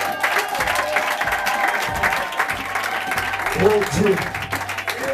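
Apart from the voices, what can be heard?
congregation applauding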